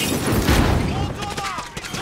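Gunfire crackles in a shooting video game, dense bursts of shots and booms early that thin into scattered pops, with voices talking over the action.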